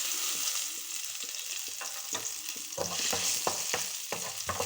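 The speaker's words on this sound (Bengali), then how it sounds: "এবার রসুনের কোয়া কটা আগে ভেজে নিব।" Garlic cloves fry in hot mustard oil in a kadai, giving a steady hiss with a run of sharp crackles and stirring taps that grows busier toward the end, close and moderately loud, no voices.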